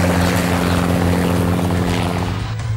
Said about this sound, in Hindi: हेलीकॉप्टरों के हुंकार से विशाखापट्टनम गूंज उठा